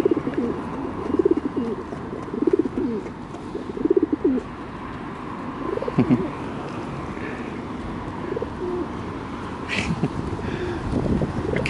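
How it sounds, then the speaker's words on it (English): Pigeons perched on a person's arm coo repeatedly at close range. Their low, throaty calls come in rhythmic bursts over steady outdoor background noise. "I've got pigeons on them."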